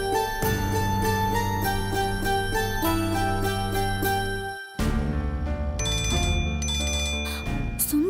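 A telephone ring tone repeats on an outgoing call, a bright melodic ringtone looping loudly with one short break partway through and no voices.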